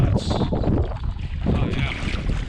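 Strong wind buffets the microphone while someone paddles a canoe on big open water, producing loud, continuous rumbling gusts with faint splashing beneath.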